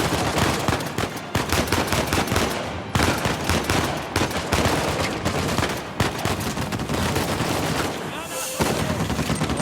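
Dense gunfire in Uncharted 4, a steady barrage of rapid automatic bursts and heavy booming shots, loud and nearly continuous with brief gaps, and talk mixed in under the shooting.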